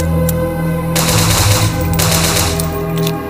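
Rapid gunfire in the Momo horror video game landing a headshot: a dense, loud burst of repeated shots fills the whole stretch, with sharper cracks standing out over a constant low rumble.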